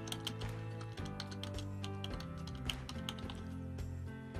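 Fingers typing on a computer keyboard, a continuous run of quick, faint clicks and taps under a low steady background hum, with no talk.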